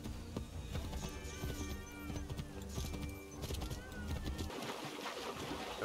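Horse hooves clip-clop at a steady gallop in Assassin's Creed III, with an occasional whinny, under a busy game soundtrack and ambient harbor noise, loud and close throughout.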